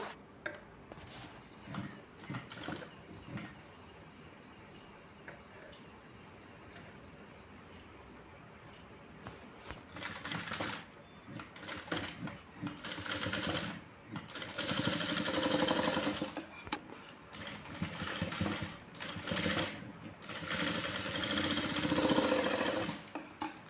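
A sewing machine stitches a blouse, starting with quiet handling and faint clicks, then running in loud bursts of rapid mechanical whirring separated by short pauses, close up and without talk.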